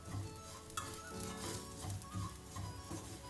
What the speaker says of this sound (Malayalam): അതിലേക്ക് നമുക്ക് പെരിഞ്ജീരകം കൂടി ചേർത്ത് കൊടുക്കാം. എന്നിട്ട് 1 മിനിറ്റ് കൂടി ഒന്ന് ഫ്രൈ ചെയ്തെടുക്കാം